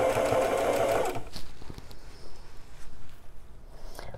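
A sewing machine stitches a jeans hem in a quick, close whirring burst lasting about a second, followed by quieter clicks and handling noises.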